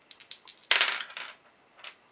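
Two dice are rolled for a Memoir '44 board game, giving a quick series of light clicks before a louder rattling tumble that settles, then one more faint tap.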